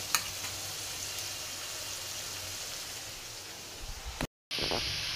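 Long eggplant pieces frying in a pan, a steady soft sizzle and crackle up close that runs evenly, broken by a brief cut near the end before resuming, no talking.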